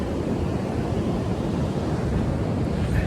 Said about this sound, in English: So behind me, here's the ocean.